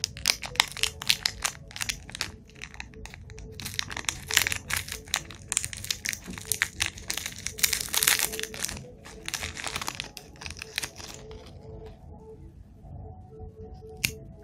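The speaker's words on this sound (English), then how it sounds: "Wow, very crispy, very tasty biscuit, very yummy, very nice." Someone bites and chews a Hurray chocolate wafer biscuit close to the mic, making sharp, repeated crunches and crinkly snaps that gradually thin out into softer chewing.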